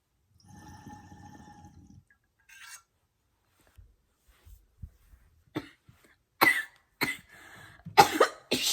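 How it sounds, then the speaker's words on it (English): A person coughs several times in harsh, loud bursts toward the end, with a few quieter throat sounds and scattered small noises before them. "I'm really coughing."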